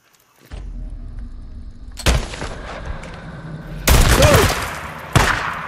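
Gunfire in the video game Days Gone: several sharp, loud shots and bursts in irregular succession over a low ambient rumble, with a ricochet-like whine between them.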